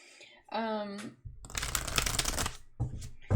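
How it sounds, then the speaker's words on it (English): A brief tone, then a rapid riffling of cards being shuffled for about a second, followed by more short card flicks; quiet and close. "We're having some trouble shuffling today"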